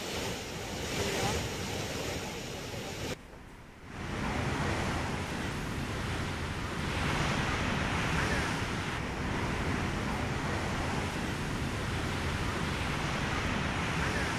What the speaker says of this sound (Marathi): धबधब्यानं रौद्र रूप धारण केलंय